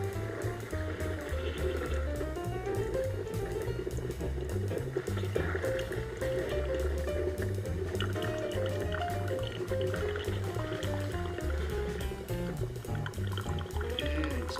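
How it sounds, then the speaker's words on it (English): A coffee maker brews quietly with a steady gurgling and dripping as coffee fills the pot, over a soft background hum, with no talking. "If you heard that, that's from my coffee maker."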